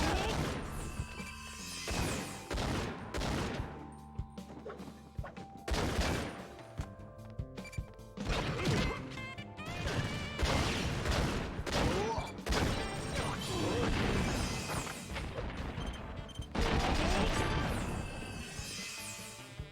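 Rockets fire and burst in a run-and-gun game, a dense barrage of loud blasts, crashes and booms following one another almost continuously, with brief gaps between heavy salvos.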